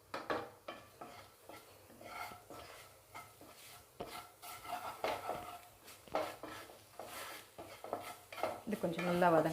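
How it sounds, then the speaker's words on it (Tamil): A utensil scrapes and taps against a pan as cumin, coriander, fennel and pepper are sautéed in oil. The irregular clinks and scrapes are fairly faint and close, with a soft sizzle beneath. No speech. "இது கொஞ்சம் நல்லா வதங்கட்டும்."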